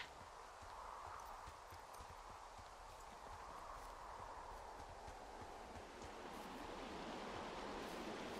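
A flowing river in the forest of the Firewatch game, a steady broadband rush of water running continuously and evenly at moderate loudness, growing slightly fuller toward the end, with no talk.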